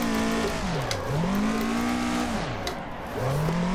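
A Toyota AE86 in Assetto Corsa revs hard with wheelspin, its engine note rising and falling in repeated sweeping cycles, loud and close, with a steady tyre squeal layered throughout.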